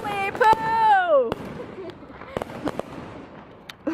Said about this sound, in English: So we're watching fireworks,